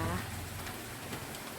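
Light, steady rain falls outdoors, a soft even hiss of drops on surfaces that continues without pause through the short stretch.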